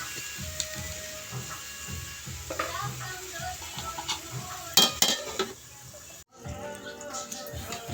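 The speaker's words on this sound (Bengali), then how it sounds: "এখন আমরা আবার ঢাকনা উঠালাম, একটু নাড়াচাড়া দিলাম।" Food is stirred in a covered cooking pot, with a spoon scraping and clinking against the metal and soft sizzling, plus a brief lid rattle near the middle; moderate and close by.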